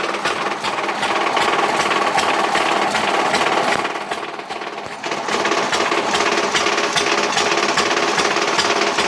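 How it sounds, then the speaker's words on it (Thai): An old engine idles close and loud, with a rapid, steady mechanical chugging and a brief dip partway through. "นี่นะครับเครื่องยนต์ของนักประดิษฐ์นะครับ"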